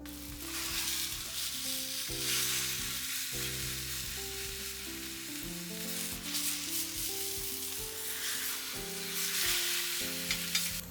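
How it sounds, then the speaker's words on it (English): A tamagoyaki rolled egg omelette fries in a pan with a continuous bright, hissing sizzle that swells and dips. It plays under steady melodic background music, with no talking. "Finally, I cook the both sides of tamagoyaki like this."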